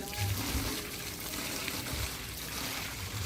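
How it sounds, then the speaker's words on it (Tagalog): Water dumped out of a container on a vacant lot, a brief splashing, trickling pour, fairly faint against outdoor background. "Tapon niyo yung tubig."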